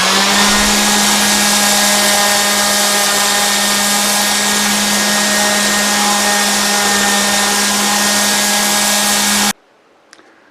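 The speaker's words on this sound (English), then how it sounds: "going through the grits and sanding and sanding and sanding" A power sander works over wooden kitchen table aprons with a loud, steady whine and rough grinding hiss that holds constant for several seconds before cutting off abruptly, followed by a faint click.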